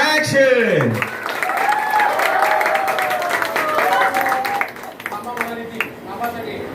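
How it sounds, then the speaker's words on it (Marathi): Sustained clapping from a crowd at a Marathi wedding ceremony fills the space, with a voice speaking over it at the start and the applause thinning out toward the end. "सगळे टाळ्या वाजवतायत सगळे अभिनंदन करतायत"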